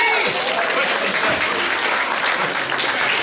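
An audience at a regional science fair final in Quebec applauds steadily, dense clapping filling the whole stretch at a loud, even level.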